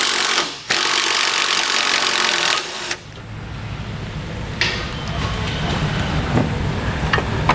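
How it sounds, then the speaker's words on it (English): A power tool with an 8mm socket whirs loudly to remove fasteners on a 2020 Jeep Grand Cherokee during a base plate install. A steady high whine cuts off, then a lower rumbling run follows, close and loud. "We're going to use an 8mm socket to take out the two fasteners that hold it in place."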